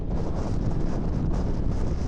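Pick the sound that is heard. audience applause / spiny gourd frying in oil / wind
wind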